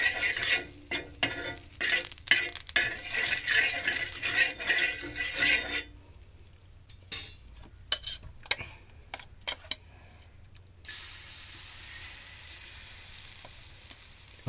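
Oil sizzles loudly on a hot griddle while a spatula scrapes and taps across it, the sizzle easing midway and then swelling again, with sharp metallic clicks scattered throughout.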